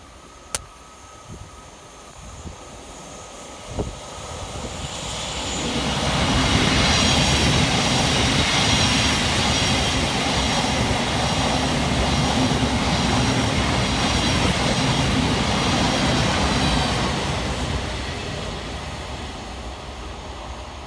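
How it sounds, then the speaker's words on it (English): A Thameslink Class 700 train runs fast through Anerley station in stormy weather, building from quiet into a loud, sustained rushing roar of wheels and rail noise that holds for over ten seconds before easing slightly. "Passing fast through the station for Thameslink is 700 126, working 9 Romeo 23 from Bedford through to Three Bridges."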